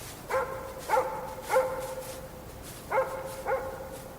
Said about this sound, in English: the occasional dog barking somewhere far out of sight